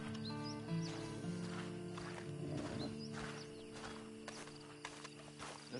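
Horse hooves in a video game clip-clopping at a walking pace, faint and somewhat distant beneath steady background music, with a few sparse thuds and rustles.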